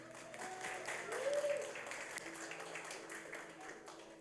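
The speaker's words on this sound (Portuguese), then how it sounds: "eu também quero uma salva de palmas para os líderes do grupo caseiro, Lara e Samuel." Church congregation at a Saturday service claps in applause for home-group leaders, a moderate, steady patter of hands that swells briefly and then holds, with voices murmuring underneath.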